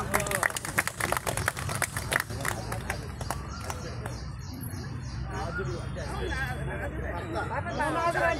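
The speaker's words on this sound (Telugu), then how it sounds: "చప్పట్లో." Crowd clapping in brisk bursts at a 65th birthday celebration in a park, fading into chatter and birdsong while people talk nearby.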